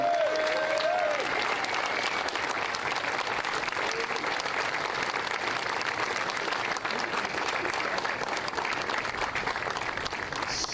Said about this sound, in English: I just want a round of applause for all the Buckmore Park staff and all the camera crew